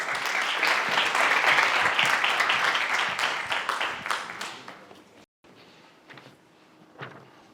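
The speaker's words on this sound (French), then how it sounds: "On peut l'applaudir." An audience at an eloquence contest final applauds the last candidate with loud, dense clapping that thins out and fades after about four seconds, followed by a brief silence and faint scattered claps and shuffling.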